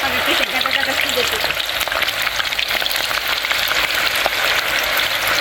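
Banana slices frying in very hot oil for homemade banana chips, a dense, loud, continuous sizzle and crackle with bubbling, with voices faintly present underneath.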